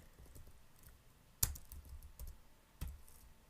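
Java code typed on a computer keyboard: a few sparse, sharp key clicks, two of them distinctly louder, in a quiet room.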